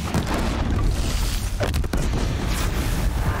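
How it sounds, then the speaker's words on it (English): Bombs bursting in Horizon Zero Dawn, The Frozen Wilds, making a dense, continuous rumble of close, loud booms with no talk over them. "Let's give you some bombs."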